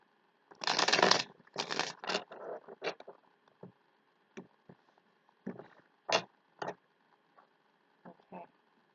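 Tarot cards being shuffled close up: a burst of riffling followed by scattered taps and soft flicks of cards being handled and laid down, quiet with no talk.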